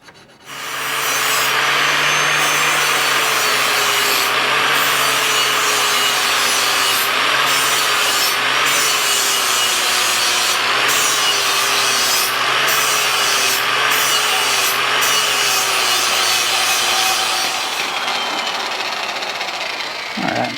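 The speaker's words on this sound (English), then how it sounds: "So, let's grind all that out." Continuous loud power grinding on the frame rail of a Jeep Grand Cherokee ZJ while frame rail stiffeners are fitted, a steady abrasive whine held for about twenty seconds, slight pitch wavering as pressure changes, close and alone.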